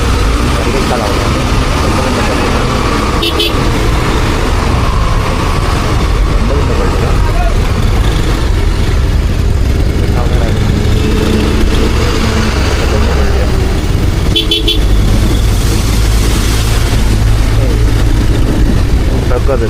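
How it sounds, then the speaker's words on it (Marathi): Heavy road traffic with trucks on a highway between Mumbai and Ujjain, recorded from a motorbike: a loud continuous engine and wind roar throughout, with brief horn-like bursts around 3 and 15 seconds. "ट्रकच, सगळे ट्रक्स आहेत नुसते."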